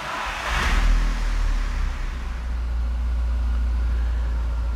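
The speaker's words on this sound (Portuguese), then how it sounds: "Eu vou dar a partida no carro." A car parked with the gearbox in neutral starts up, a brief cranking burst that settles into a steady low idle rumble close by.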